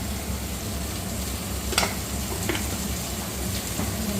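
Onions and chicken sizzle steadily in a hot pan, a continuous close frying hiss with a few brief scraping clicks of stirring breaking through.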